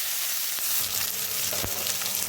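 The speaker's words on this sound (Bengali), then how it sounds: "এখন আমি এর মধ্যে ছেড়ে দেব পেঁয়াজ" Chopped onions frying in oil tempered with whole cumin give a steady, bright sizzle with a couple of soft stirring knocks, close and with no talk over it.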